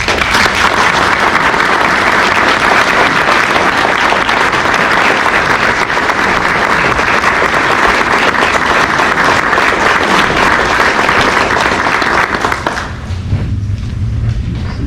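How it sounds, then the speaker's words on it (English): A large audience at a local veterans' honouring event applauds steadily in a thick, continuous roar of clapping that holds strong before thinning out near the end. "Could we please have a round of applause for Private Cohen?"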